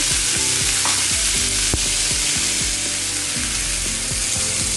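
Mustard oil sizzling loudly in a pan for tomato bharta, a steady close crackling hiss with repeated scraping and stirring knocks throughout.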